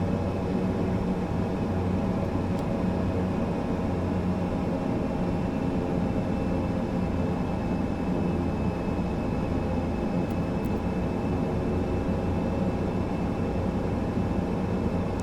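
An ATR 72-600 turboprop airliner in Microsoft Flight Simulator 2024 hums steadily while preparing for takeoff, a constant loud engine and propeller drone with no talking.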